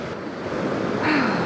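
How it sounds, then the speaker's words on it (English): Sea waves washing over sandstone rock ledges on the Northumberland coast with an incoming tide, a broad steady rushing surge that swells louder toward the end, mixed with wind buffeting the microphone. "the waves are falling over the ledges"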